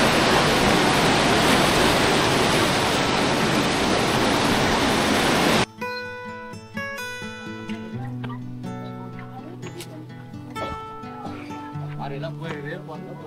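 Loud, steady roar of sea waves breaking near a lighthouse on the Andaman Islands, continuous broadband wash for several seconds, then abruptly replaced by softer surf under background music-like tones.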